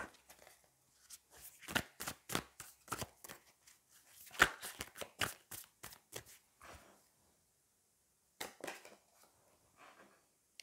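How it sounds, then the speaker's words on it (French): Tarot cards shuffled and dealt by hand in a quick run of crisp, papery riffles and snaps, a dense burst mid-way, then a pause and a few softer card draws near the end, close and clear with no talking. "je vais aller prendre encore une ou deux cartes"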